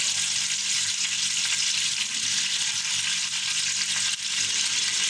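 Cardamom frying in a pan for sweet rice, a steady close sizzle holding evenly throughout with no talking.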